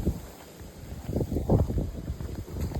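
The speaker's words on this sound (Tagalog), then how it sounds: "Lakas ang hangin" Strong outdoor wind buffets the microphone while a V-shaped kite is flown, a rough, continuous rumble with uneven gusty surges.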